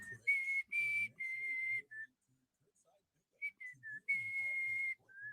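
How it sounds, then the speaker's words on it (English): A person whistles a short tune in clear, fairly loud notes, pausing briefly midway before whistling again, with faint rustling underneath. "That's the loudest I can whistle, by the way."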